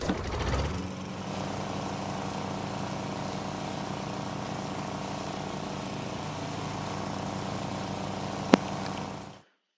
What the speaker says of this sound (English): Along with the Lil Lawnmower emote.